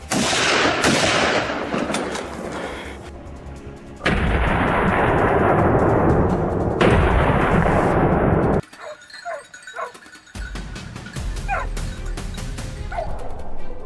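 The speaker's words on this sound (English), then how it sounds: "And with just a single shot, it was stopped in its tracks." Loud gunshot from a hunter's ambush on a wild boar by a stream, booming with a long echoing decay, followed by further heavy blasts, then a quieter stretch with faint dog yelps and whimpers.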